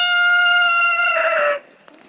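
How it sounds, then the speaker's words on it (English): A rooster crows in a long, loud, tonal cock-a-doodle-doo near a garden of raised beds, the call ringing out alone and then cutting off into quiet outdoor ambience. "I'm being overshadowed by this rooster in the background."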